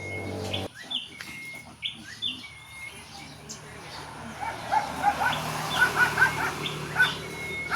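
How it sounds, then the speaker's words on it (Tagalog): Short bright chirps and trills from a bird perched on a power line ring out over a busy outdoor background, growing more frequent toward the end, with some noise and voices mixed in. "Hinahanap ko yung huni ng ibon,"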